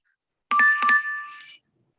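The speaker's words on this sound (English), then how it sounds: "you should have heard a bell. That was the end of the exposure." A bell rings to mark the end of a telescope exposure: two quick, bright chime strikes close together, then a sustained ringing tone that fades out within about a second, against silence.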